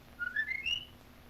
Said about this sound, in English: There's Jim's whistle.